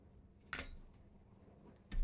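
Scissors cut excess material off a homemade Doom Slayer Dark Ages helmet, giving two short, crisp snips about a second and a half apart in a quiet room.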